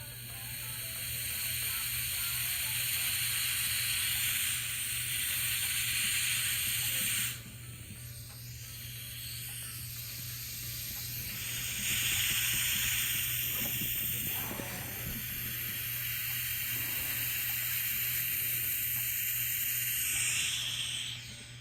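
Air hissing steadily as it is slowly let back into a vacuum chamber, a continuous broad hiss over a low steady hum that shifts in strength partway through.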